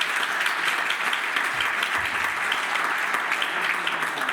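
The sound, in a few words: audience applause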